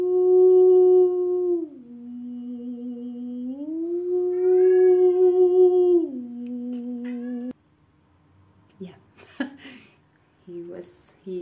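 A cat yowls in long, drawn-out wavering cries, loud and close, followed by quieter rustling and a few brief sounds.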